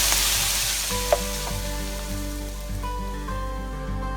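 Steady sizzling of garlic ginger paste frying in a hot pan, a soft continuous crackle with a faint clink of a utensil partway through.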